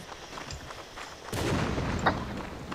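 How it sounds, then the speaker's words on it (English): Distant booms and gunfire-like bursts from explosions in the video game Mount & Blade roll in, with a louder blast swelling midway and lingering as a rumbling roar. "I see stuff exploding."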